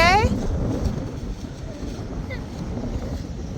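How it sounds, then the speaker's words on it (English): Gusty wind buffets the microphone outdoors in a steady, roaring wash, with a brief high tone at the very start. "You see how windy it is? It's so windy. The breeze is blowing."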